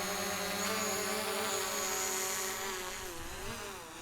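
A DJI Mavic Pro quadcopter drone flies close by with a loud, steady high-pitched propeller whine whose pitch wavers and dips slightly as it manoeuvres, no voices heard.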